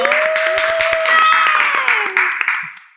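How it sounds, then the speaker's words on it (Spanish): A small production crew in a podcast studio claps and cheers, sharp close handclaps under a loud rising whoop that fades out toward the end. "Lancen su grito, por favor, su aplauso."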